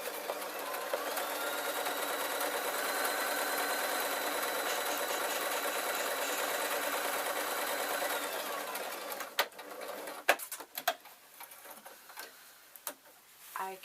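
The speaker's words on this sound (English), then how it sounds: "placing it underneath the foot, and then sewing this last seam up." A sewing machine stitches the last seam of a lined waistcoat with a collar, running steadily and fast for about eight seconds before stopping, followed by scattered clicks and handling noises.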